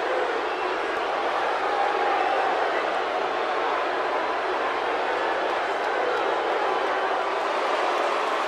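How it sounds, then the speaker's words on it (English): Crowd in WWE 2K18 cheering for a wrestler's entrance, a dense steady roar of many voices that stays loud and unbroken throughout. "Sounds like this crowd came to see Batista, Corey."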